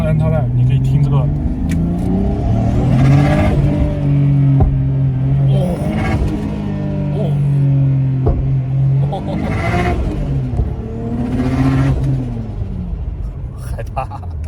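A Nissan Skyline GT-R R33 with a rebuilt RB26 engine revving hard, loud close engine roar rising and falling in several repeated rev sweeps, with people talking over it.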